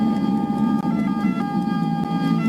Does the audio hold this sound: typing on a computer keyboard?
no